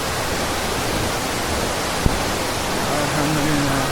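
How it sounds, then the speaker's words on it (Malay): Steady, full rushing roar of the Lata Kinjang waterfall, heard close and constant with no break, a faint tone entering near the end. "nak tengok air terjun secara keseluruhan"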